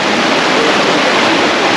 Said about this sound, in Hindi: ये कलकल बहता पानी